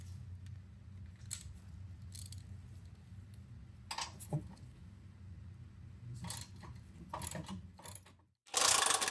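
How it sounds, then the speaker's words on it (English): A ratchet with an 18mm deep well socket works a bolt during a Jeep Wrangler steel winch bumper install, giving quiet bursts of quick clicking that come and go, followed by a sudden loud burst at the end. "Next, you're going to need an 18mm deep well socket"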